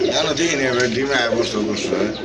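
Pigeons kept for sale in a loft coo in a soft, continuous murmur, with a person speaking over the birds throughout.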